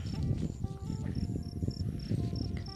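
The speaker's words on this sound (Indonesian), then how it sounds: "Di depan ada jangkrik lagi" Crickets chirping steadily in a cricket-hunting outing in Indonesia, a continuous high-pitched trill repeating in short pulses over a dense, noisy outdoor background.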